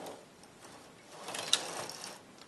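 A knitting machine carriage is pushed slowly across the needle bed, giving a soft mechanical whir with faint ratcheting clicks and one sharp click partway through, quiet and close with no talking.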